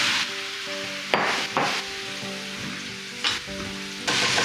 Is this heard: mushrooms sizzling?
yes